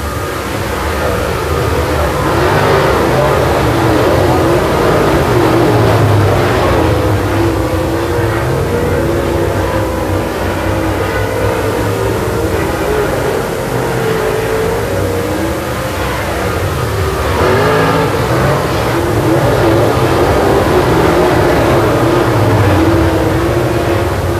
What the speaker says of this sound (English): Jason Perry now battling inside of Bergtorp off turn number 2